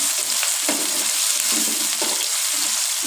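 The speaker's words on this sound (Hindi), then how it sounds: "घी हमारा गर्म हो गया, मैं इसमें डालूंगी प्याज" Two medium-size onions sizzle steadily in hot ghee for a daal mash, a dense, continuous frying hiss with occasional stirring scrapes and no voices.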